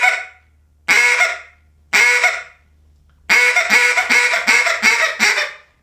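A duck call is blown in short, loud honking quacks, first two separate notes and then a fast run of clipped quacks with a ticking cutoff at the end of each, all close and clear with no voice.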